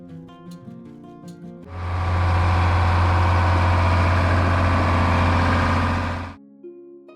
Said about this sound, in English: the warm sound of the 6-cylinder engine